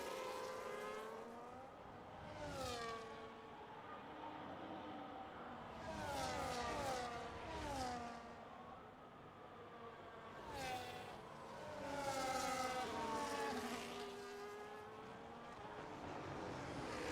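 Ferrari and McLaren race cars battling for an overtake at Imola, engines revving and passing in repeated surges of rising and falling pitch, loud and continuous with no talk over them.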